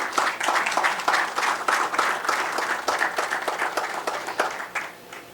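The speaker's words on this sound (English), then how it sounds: "please applaud her while she's coming on stage" An audience applauds steadily as a Forbes 30 Under 30 honoree working in education in Senegal comes on stage at a talent development event. The dense, continuous clapping holds for several seconds and thins slightly near the end.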